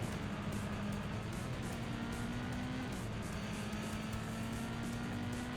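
A truck's engine in a racing video game drones steadily and loudly throughout, its pitch slowly climbing as it accelerates, with no pauses or voices.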